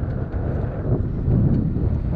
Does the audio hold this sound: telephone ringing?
no